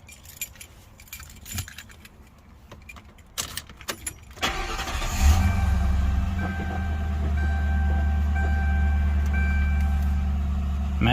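A 2007 Mercury Grand Marquis garage find with 26k miles: keys jingle in the ignition, then the engine cranks and catches about halfway through, settling into a steady, close idle with a repeating dashboard chime.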